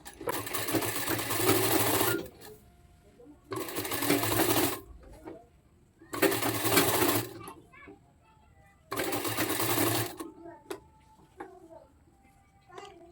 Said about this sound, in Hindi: तो मैं यहाँ पे फटाफट से एक पैर की सिलाई दे देता हूँ